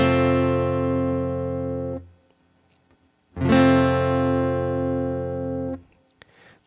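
An acoustic guitar is strummed in an F shape barre chord, one full ringing strum that sustains for about two seconds, then stops and is struck again to ring out for a few more seconds.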